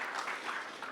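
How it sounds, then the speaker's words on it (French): Audience applause at a handmade cosplay contest, a dense, steady wash of many hands clapping throughout the short moment, fairly close and even in level. "On peut encore l'applaudir bien, bien fort."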